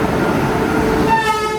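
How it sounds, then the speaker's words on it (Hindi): A train pulls into Ajmer railway station, its loud, steady rumble filling the scene close by, and a horn-like tonal whine rises briefly near the end. "ट्रेन आ चुकी है"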